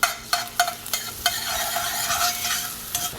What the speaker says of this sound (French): On va faire suer l'échalote.